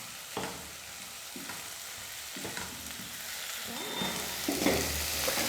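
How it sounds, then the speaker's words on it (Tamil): Green beans sautéing in hot oil for sambar, a steady frying sizzle broken by several soft scraping stirs of a spoon in the pan, close and moderately loud with no voices. "காய் சேர்த்துட்டு ஒரு 2 நிமிஷம் எண்ணெயிலே நல்லா வதக்கணும்"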